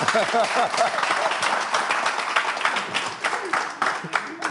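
Studio audience applauding on a French quiz show, dense clapping with cheers and voices mixed in, loud and close, with harmonic talk-like sounds woven through early on.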